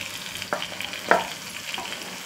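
Ground spices, Kashmiri chilli powder, turmeric and garam masala, stirred in hot oil for a catfish curry, giving a low steady sizzle with two louder scraping stirs against the pan, no voices.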